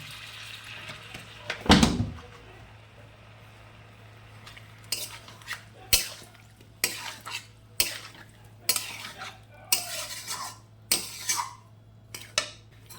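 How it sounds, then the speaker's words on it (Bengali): A spice paste with a splash of water cooks in a pan for Bengali shukto, a soft sizzle running underneath as a spoon scrapes and stirs in sharp, repeated strokes, one loud clatter early, then a steady rhythm of clinks. "খানিকটা কষে নেব তার জন্য সামান্য পরিমাণে জল দিয়ে নেব যাতে মশলাটা ভালো করে কষা হয়"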